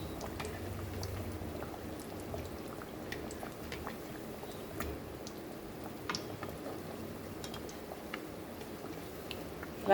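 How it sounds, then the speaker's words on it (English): Kachoris frying in hot oil give a steady, faint bubbling sizzle with scattered tiny pops, continuous throughout with no talk. "Fry it till golden brown."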